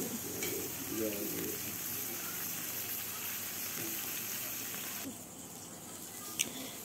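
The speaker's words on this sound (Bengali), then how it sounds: "তো আবারও আমি 3 পিস মাছ দিয়ে দিচ্ছি ভাজার জন্য" Pomfret fish frying in hot oil in a pan, a steady broadband sizzle running throughout with faint background chatter and a brief sharp click near the end.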